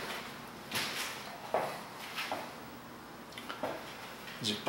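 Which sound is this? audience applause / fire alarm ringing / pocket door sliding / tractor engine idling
pocket door sliding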